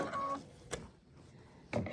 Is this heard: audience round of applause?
no